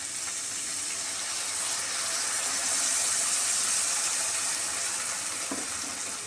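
Water poured into a hot pan of cooking okra sets off a loud, steady sizzle and hiss with bubbling steam that swells and then eases, close and alone without speech.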